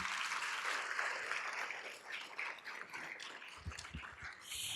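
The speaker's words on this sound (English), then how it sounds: "let's give him a big round of applause too" A room full of people applauding steadily, a dense wash of clapping at moderate distance that continues throughout.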